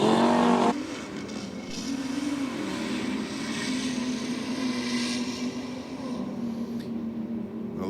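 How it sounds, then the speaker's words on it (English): Audi SUV and a Commodore drag racing side by side to the finish line, a steady loud engine roar that holds throughout with a brief louder burst at the start. "Looking like the Commodore is stretching the legs on the Audi at the finish line."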